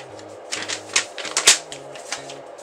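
Paper packaging around a shirt is torn open by hand in a series of short, crisp rips and crackles, with one louder tear in the middle, close up and without speech.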